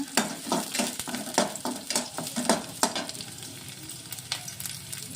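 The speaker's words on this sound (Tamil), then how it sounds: "கருவேப்பிலை, பச்சை மிளகாய், 2 பச்சை மிளகாய் வச்சுருக்கேன், கீரி வச்சுருக்கேன். நல்லா வதக்கிக்கோங்க." Curry leaves and two slit green chillies sauté in a pan: quick, close spatula scrapes and taps in a rapid rhythm over a constant crackling sizzle, tapering off toward the end, no voices.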